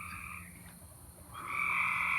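Tree frogs calling at night beside a newly finished pool deck, a continuous high trilling chorus that dips briefly and then swells louder, steady and moderately distant with no talk.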